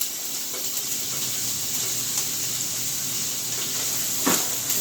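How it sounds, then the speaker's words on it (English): A medium purple onion sizzles in heated oil, a steady close hiss and crackle that holds throughout with a few brief pops, and no one talks. "my oil is now heated, so I'm first going to add my onions here to that"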